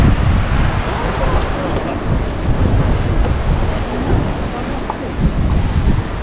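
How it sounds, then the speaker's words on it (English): A waterfall in Krka National Park, Croatia, roars as a broad, constant rush of falling water, loud and close with a steady wind-like texture. "That's the waterfall."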